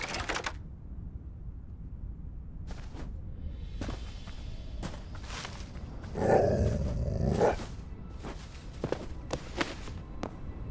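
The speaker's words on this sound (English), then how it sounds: "I heard another dog, but I can't see it." Dog in the video game Hytale: a short burst of growling around the middle, set among scattered footstep-like clicks and taps over a quiet low background.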